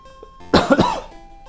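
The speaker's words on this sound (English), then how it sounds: "There goes the cough again." A single harsh cough bursts out close to the microphone, two or three quick barks in under a second, then quiet room tone.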